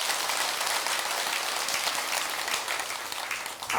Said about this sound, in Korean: 박수 한번 칩시다.